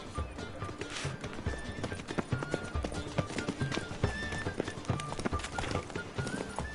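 A horse gallops in The Witcher 3: Wild Hunt, its hooves clopping in a quick, steady rhythm close by, with whinnies breaking through over a busy game soundscape and no speech.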